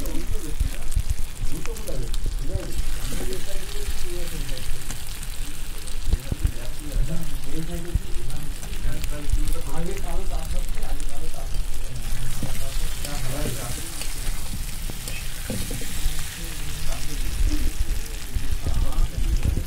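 Soft potato pieces fry and get stirred in a pan during the cooking of a Bengali egg curry, a continuous sizzle and scraping heard under a voice speaking throughout.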